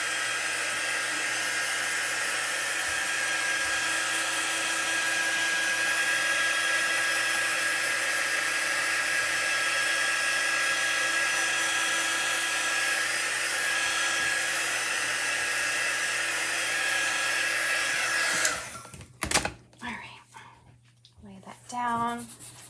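A hair dryer blows steadily on chalk paste over a Chalk Couture craft project, a loud continuous whir that cuts off near the end, followed by brief handling noises and a voice.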